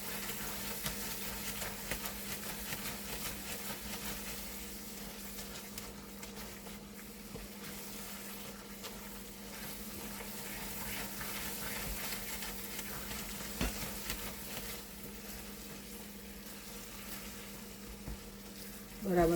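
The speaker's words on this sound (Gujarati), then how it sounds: "તેને સખત હલાવતા રહેવાનું છે. ગેસ ધીમો રાખવાનો છે આપણે." Carrot halwa (gajar halvo) being stirred in a pan over a low gas flame, giving a steady soft sizzle with faint scraping for the whole stretch, close and fairly quiet, with no talking.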